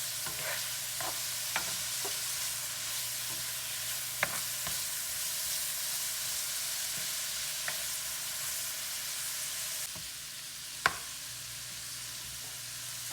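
Garlic sautés in a pan over medium heat for chili rellenos, a constant close hiss of frying oil broken by occasional sharp clicks and scrapes of a utensil stirring.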